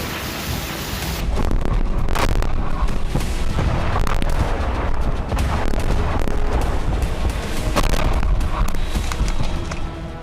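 A loud, close blast as a rocket hits a car in Belgorod, followed by continuous roaring, crackling rumble and sharp bangs, with debris and fire crackling afterward.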